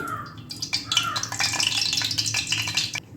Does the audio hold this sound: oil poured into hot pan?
yes